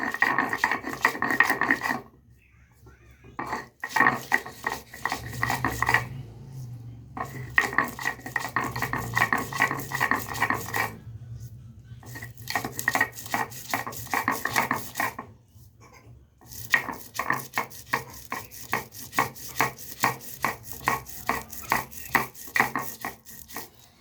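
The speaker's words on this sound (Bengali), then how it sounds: "তো আমি মশলাগুলোকে শিলে বেটে নেব" Spices including ginger, garlic, poppy seeds, cashews and raisins are ground on a stone shil, a rhythmic rasping of stone rolling back and forth in repeated strokes, broken by a few short pauses, close and fairly loud.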